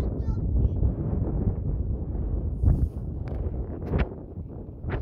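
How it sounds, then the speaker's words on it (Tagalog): Strong wind buffets the microphone in a steady low roar at Grimwith Reservoir in the Yorkshire Dales, with gusts swelling and fading and faint voices underneath. "it's so windy guys"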